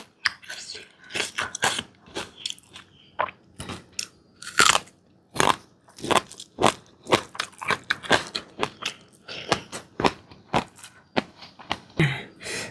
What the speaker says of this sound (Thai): กรอบมากกินไปทางก้าง กรอบ